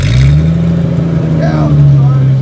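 A Jeep's 4.0 liter straight six with a straight pipe and no muffler holds a loud, raspy idle-to-rev drone close by, a steady low engine tone rising slightly near the end, with a voice talking over it.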